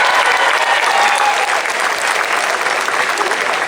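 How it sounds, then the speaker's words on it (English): Dense, sustained applause from a large audience at a college graduation ceremony, loud and even throughout with no break. "Another round of applause."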